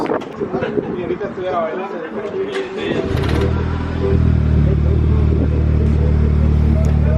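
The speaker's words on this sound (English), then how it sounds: "Only thing left now is to turn it on and get some exhaust clips." A Honda Civic Type R fitted with an Invidia exhaust cranks and catches, then settles into a steady, moderately loud, low idle rumble. People talk over the clatter before the start.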